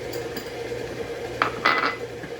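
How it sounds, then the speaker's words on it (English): A whisk blends self-rising flour and cocoa in a bowl, giving a few soft scrapes and then two brief, bright metallic clinks against the rim in a quiet kitchen. "So I'm just going to whisk this in"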